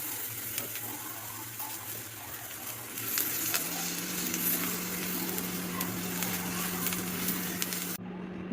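Spices and other ingredients dry-roasting in a pan give a steady, moderate sizzle with faint scraping as they are stirred, and a low hum runs underneath throughout.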